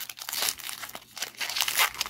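Foil wrapper of a Pokémon Cosmic Eclipse booster pack crinkles and tears as it is opened, close up, in several quick bursts of rustling.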